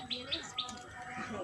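Pigeons perched on a roof give a few short, bright calls in quick succession, close by, with a faint murmur of background sound.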